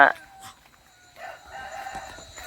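Roosters at a breeding farm, with a short crow near the start and more crowing and clucking later, fairly faint at a distance amid background farm noise.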